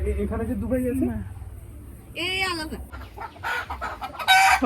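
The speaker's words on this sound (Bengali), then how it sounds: "ওরে বাবা কত মুরগি" Farmyard chickens cluck busily and a rooster crows loudly nearby, with a person speaking briefly over the poultry noise.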